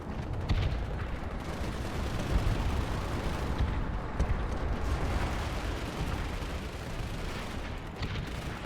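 Sustained gunfire and artillery in the Planetside 2 video game form a dense, rumbling wall of shots and explosions that runs unbroken throughout at a fairly even level, with no speech.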